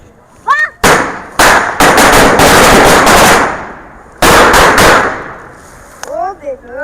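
Firecrackers explode in rapid, loud crackling bursts close by, two long volleys of sharp pops with a gap between, and people shouting and talking at the start and end.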